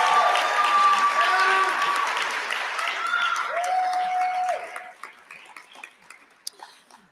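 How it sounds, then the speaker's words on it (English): An audience at an awards evening applauding after a speech, a loud sustained clatter of clapping that thins out into scattered claps, with a few voices speaking over it. "let's give her one more round of applause."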